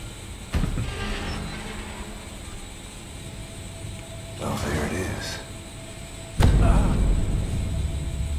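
An electric train in The Evil Within 2 sweeps past in bursts of rumbling, rattling rail noise, with a sharp heavy onset near the end, over a continuous mechanical hum of the game scene.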